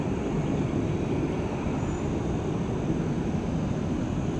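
An Alaska Airlines jet roars down runway 18 left at Orlando airport on its takeoff run, a steady, broad engine rumble and hiss heard from a distance, continuous and unchanging throughout.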